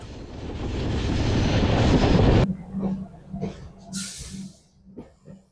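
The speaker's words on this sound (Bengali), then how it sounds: "জোলারপেটায় জাংশন দিয়ে খুব ধীরে ধীরে আমাদের ট্রেন যাচ্ছে" Duronto Express train rolling slowly through Jolarpettai junction: a loud sustained rumble and roar of the moving train that cuts off abruptly, followed by quieter intermittent knocks and a brief hiss.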